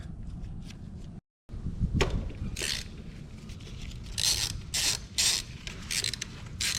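A ratchet works loose the rear brake bolts on a Triumph Bonneville, giving a few short mechanical clicks and scrapes at close range. A brief silent gap comes early, and no voices are heard.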